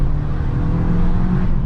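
An Abarth 695 70th Anniversario drives on a Sunday morning, its small engine giving a loud, steady drone with a slight rising pull, close and continuous without a break.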